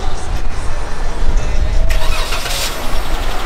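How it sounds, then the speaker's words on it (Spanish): A 2017 Jeep Wrangler Smoky Mountain Edition engine cranks and catches, settling into a steady idle with low rumble throughout, close and fairly loud, with a brief burst of noise near the middle and faint voices in the background. "En verdad, ¿cómo se prende el carro?"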